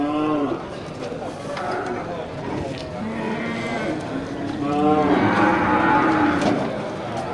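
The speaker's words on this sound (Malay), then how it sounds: "sapi jenis sapi simental, sapi Bali jantan dan betina" Simmental and Bali cattle, bulls and cows, low repeatedly at a crowded livestock market, several overlapping moos near and mid-distance against a murmur of voices and people talking.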